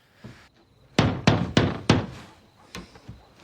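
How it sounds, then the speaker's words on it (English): Knocking on a door: several heavy, hollow thuds close by, first a light tap, then four strong knocks in quick succession, then a couple of softer ones. "Quit your goddamn knocking, I'm coming."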